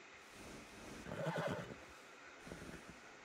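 A single horse in Red Dead Redemption 2 neighs, a short rising and falling whinny at moderate distance, followed by a brief softer snort.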